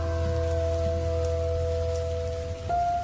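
Heavy rain falls at night beside a roadside shop, a dense, steady hiss that continues without a break, with a low constant hum running underneath.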